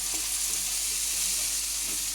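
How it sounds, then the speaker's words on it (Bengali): Mutton curry with onions frying in a small amount of oil, a steady, even hiss of sizzling throughout with faint stirring, fairly loud and close, no voices. "অল্প অল্প তেলেই করছি"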